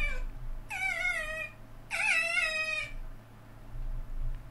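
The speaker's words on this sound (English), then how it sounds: "Whose cat is that?" A cat meows twice in long, drawn-out wailing calls with a pause between them, close and clear over a low background hum.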